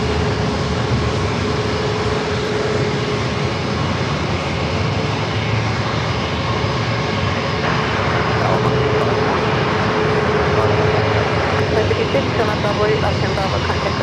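Alaska Airlines Boeing 737 MAX 9 jet engines at San Diego airport, a steady broad roar that holds evenly throughout, sounding somewhat distant.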